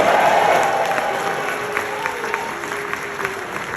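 Convention panel audience at New York Comic Con cheering and applauding, a dense loud wash of clapping and crowd noise that fades slowly, with a few whistles and shouts poking through.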